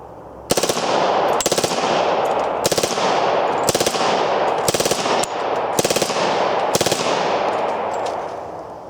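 A Reising submachine gun empties a 30-round magazine in a long run of loud, close automatic fire, broken into about eight sharp bursts with brief ringing gaps between them, with no speech.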